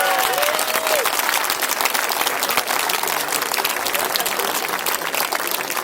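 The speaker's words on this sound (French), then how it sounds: "Allez, Pierre. Bravo. Allez, on applaudit" An audience at a baptism celebration applauds, dense steady clapping from a crowd sustained for about six seconds, fairly loud and close.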